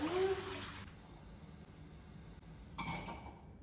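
Water runs from a kitchen tap into a pot for noodles, starting with a brief rising fill tone. It continues as a quiet, steady trickle and swells into a louder splash near the end, close by and faint overall.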